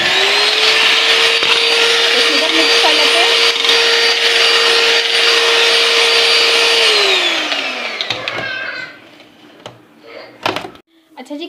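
Electric hand mixer beating milk pack cream with powdered sugar, a loud steady whirring drone that runs for several seconds, then winds down and stops, followed by clattering knocks and bumps of the bowl and beaters.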